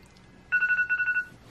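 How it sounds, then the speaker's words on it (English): A phone alarm rings in a quiet room, a short burst of repeated electronic beeping tones in two quick groups, fairly close and alone with no talk. "That's my alarm."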